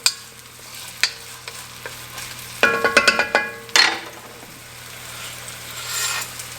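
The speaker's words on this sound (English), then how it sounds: "into our olive oil, we've added our yellow onion" Yellow onion fries in olive oil for a marinara sauce, a soft, low sizzle broken by several sharp clicks and a short burst of scraping stirs near the pan.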